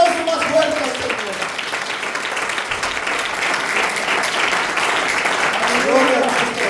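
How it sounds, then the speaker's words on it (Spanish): A church congregation claps steadily in praise during a Spanish-language worship service, a continuous even applause with a preacher's voice heard at the start and end. "Denle un aplauso más fuerte al Señor."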